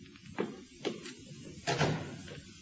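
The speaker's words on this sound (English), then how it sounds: "Mind if I close this door?" An office door is closed in an old radio drama, a few soft wooden knocks and shuffles followed by a fuller thud of the door settling shut, close by and fairly quiet, with no talk over it.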